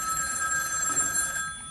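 A novelty telephone rings steadily with a bright, continuous electronic bell tone that carries through the clip and then cuts off near the end, with no talk over it.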